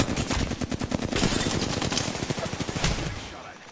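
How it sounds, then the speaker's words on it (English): Rapid, rhythmic automatic weapon fire in the shooter Apex Legends, loud and close, with steady shots that fade out near the end. "Opening fire on the enemy."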